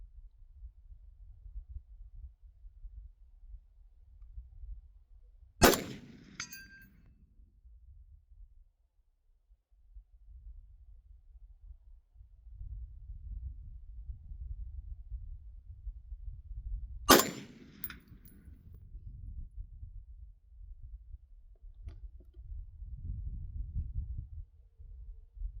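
Two sharp rifle shots ring out about eleven seconds apart at an outdoor range, each followed by a brief metallic ring from a steel target struck at 200 yards, over a low steady rumble of wind.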